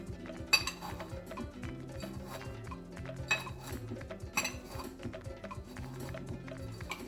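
A metal spoon taps and clinks against a bowl while crushing cookies, with sharp scattered clicks and scraping over a quiet backdrop of low music.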